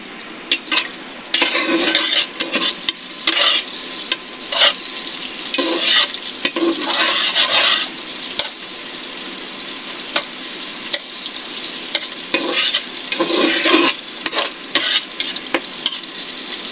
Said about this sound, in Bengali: আজকে যেহেতু মহরম, সেজন্য এখানে খিচুড়ি রান্না করা হচ্ছে